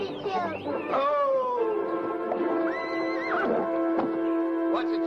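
An old horse in a 1959 feature film gives loud, close whinnies and neighs, with long wavering calls that fall in pitch and a few shorter snorting bursts near the end.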